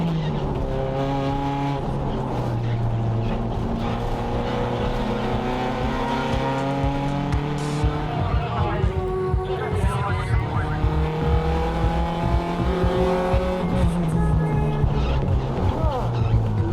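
Race cars in a wet racing video game roar around a track on the final lap, engines rising and falling through gear shifts with tire squeal and skids, a dense, sustained mix of several cars close by.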